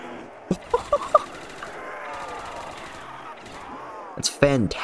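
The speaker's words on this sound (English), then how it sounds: "Are you guys listening to that gun sound?" Gunfire in the Roblox game Resurrection: a few quick separate shots early, a steady hum of game ambience, then another short burst near the end, with talk nearby.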